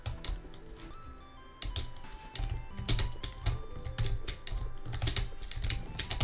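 Rapid computer keyboard typing and mouse clicks while playing Celeste 3D, a dense stream of close clacks in uneven bursts over the game's steady background music, with no talk.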